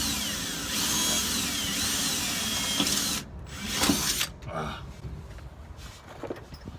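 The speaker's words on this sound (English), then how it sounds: "That's a hole, one hole that I drilled." A power drill bores a hole in a steel frame rail of a square-body Chevy C10 pickup, a steady loud whine for about three seconds, then the motor stops, followed by quieter clatter and handling noises.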